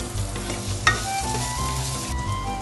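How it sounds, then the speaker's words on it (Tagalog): Onion and garlic sizzle and fry in hot cooking oil for kare kare, giving a dense, steady crackle with a brief stir or clink partway through. It is close and continuous, with no talking. "Ilagay ang mantika, ilagay ng sibuyas,"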